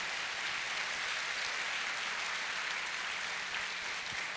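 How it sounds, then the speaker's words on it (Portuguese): A church congregation claps in a sustained, dense wash of applause, steady and even throughout without any break, fairly soft and heard from a distance, with no voices standing out. "Para Ele a sua mais forte salva de palmas"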